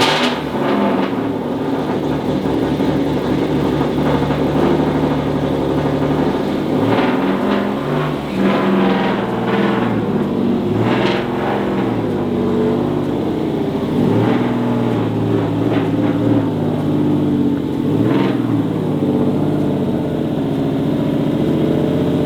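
A Subaru STI engine runs and revs as the car moves under its own power for the first time in two years, a steady loud mid-pitched drone with rising and falling throttle swells, close by and without talk.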